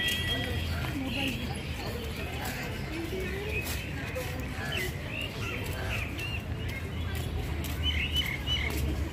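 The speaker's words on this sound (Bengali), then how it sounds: "শালিক পাখি দেখানো হচ্ছে।" Myna birds chirp in scattered short calls at Alipore Zoo, faint beneath an ongoing murmur of visitors and voices in the open air.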